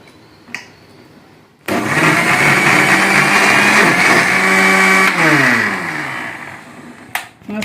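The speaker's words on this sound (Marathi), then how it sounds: "मसालो वाटून गेले" A mixer grinder whirs loudly while grinding masala for a Konkani soya chunk curry, starting abruptly, running steadily for several seconds, then shifting pitch before stopping, close and without talk.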